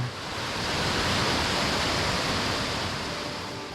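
Steady broadband rush of a mountain valley stream in Yongchu Valley, Gapyeong, water tumbling over rocky pools close by, continuous and fairly loud with no voices.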